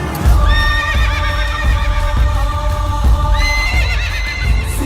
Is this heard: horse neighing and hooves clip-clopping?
yes